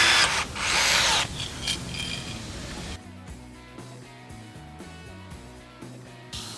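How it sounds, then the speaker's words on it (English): A rivet gun sets a rivet into the bottom of a Can-Am Defender Nerf rail: a loud, harsh burst lasting about a second, then quieter noise and background music. "You're now ready to take your rivet gun and replace the rivet in the bottom"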